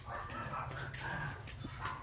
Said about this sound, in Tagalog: Ito aso nila.